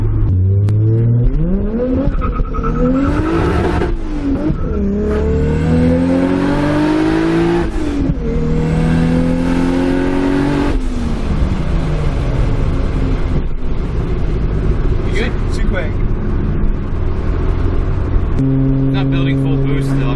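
A Toyota Supra with antilag accelerates hard through several gears, its engine rising in pitch and dropping at each shift, loud and close from inside the car, with people talking over it.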